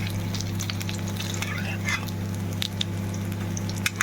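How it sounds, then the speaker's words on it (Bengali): Small shrimp fritters frying in hot oil as they are turned over, a steady close sizzle with occasional light scraping clicks of the utensil, no talk. "চিংড়ি মাছের ভাজা বড়াগুলো এখন উল্টে দেবো আমি"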